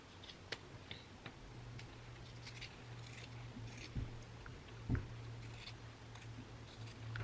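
Scissors cut fabric for a garment neckline, a series of faint, sparse snips and ticks spread unevenly over a low hum, with a slightly louder cut near the end and no voices.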